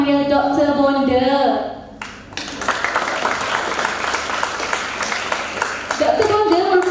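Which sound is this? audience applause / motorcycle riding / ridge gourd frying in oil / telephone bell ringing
audience applause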